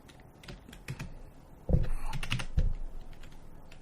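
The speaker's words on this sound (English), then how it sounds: "Let's type in the name of our chip." Keys clatter on a computer keyboard as a chip's part name is entered, a quick irregular run of close clicks with a couple of louder, heavier key strikes partway through.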